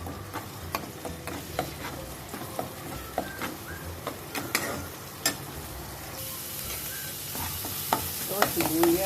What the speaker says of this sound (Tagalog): Lalagay itong sibuyas. Yan, maglalagay ng bawang.